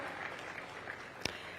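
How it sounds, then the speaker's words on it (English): An audience at a Nairobi event claps in steady, dense applause, heard at a distance as a continuous wash with one sharper clap standing out near the end. "Let's give him a round of applause as well"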